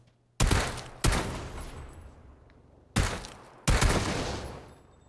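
Gunfire in the PUBG battle royale game: four loud, close bursts of automatic fire, each a sharp onset trailing into a long decaying roar, separated by short pauses, with no voices.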